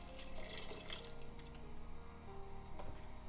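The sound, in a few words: pouring stock into pasta sauce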